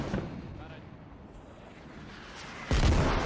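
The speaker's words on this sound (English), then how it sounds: "U.S. mortars coming in as well." U.S. mortar rounds landing in the Squad video game, a low continuous rumble of distant impacts that swells into a louder, heavier blast near the end.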